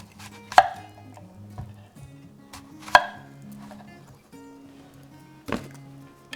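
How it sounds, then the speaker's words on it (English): A knife chops through apples on a cutting board for fritters, three sharp, well-spaced thunks landing close and clear over a quiet kitchen background. "We're just going to keep chopping on these apples."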